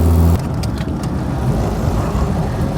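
1999 Reliant Robin with a leaking exhaust driving round a bend: a steady, close engine drone and road rumble inside the car, no talk.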